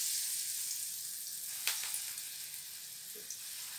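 Dal bhaji fritters fry in a kadhai of hot oil, giving a steady, soft sizzle with a few brief sharp pops partway through.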